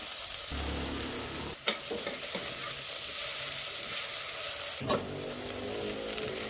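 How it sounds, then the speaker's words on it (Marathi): Chopped tomato drops into onions browned to a pink colour in a pan while making a fenugreek vegetable dish. A steady close sizzle runs throughout, with two sharp splashes of frying as pieces are added and stirred. "आता ना यामध्ये आपण टोमॅटो चिरलेला आहे ना तो घालूया"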